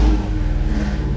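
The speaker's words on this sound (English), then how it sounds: "We have exhaust on it now. It's still loud, but it's not as loud as it was the other day when we started with just the open manifolds." Jeep Grand Wagoneer V8 engine with a newly fitted exhaust, rumbling loud and close with a deep throbbing pulse, no talk over it.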